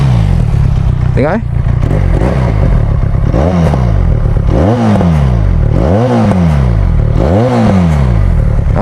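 A Benelli Leoncino 500 motorcycle with an aftermarket exhaust revs repeatedly, its deep bassy engine note rising and falling in about four loud throttle blips, close by, while someone talks over it.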